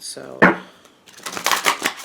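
Tarot cards riffle and slap in quick, close shuffling bursts, with a person briefly speaking before the shuffle.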